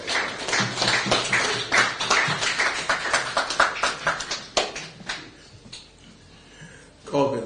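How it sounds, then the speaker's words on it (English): Audience applause greeting a speaker at a prostate cancer awareness discussion, dense and steady clapping for several seconds that thins out and fades near the end. "Give him a rousing round of applause."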